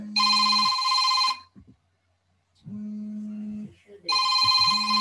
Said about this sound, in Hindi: मैं ये फोन भी सुन लूं